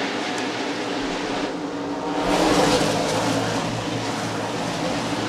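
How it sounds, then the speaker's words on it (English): NASCAR stock cars racing at Bristol Motor Speedway in 1999, a dense continuous engine roar from a close pack of cars that swells as they pass. "Good 3-car battle going on here."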